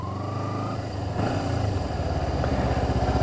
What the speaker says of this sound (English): release on the clutch, still very slowly, and then sure enough, the bike starts a bit quicker than it did